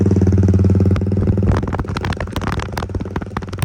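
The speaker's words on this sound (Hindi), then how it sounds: "तो ये इसका आइडल साउंड है" A Benelli TNT-25 250cc motorcycle with a straight-pipe exhaust idles close by, loud, raw and popping, a steady low throb that turns choppier and more rattly partway through.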